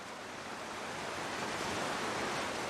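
A waterfall in the survival video game The Long Dark gives a steady, even rush of falling water, soft and distant, with no change in level and no voices.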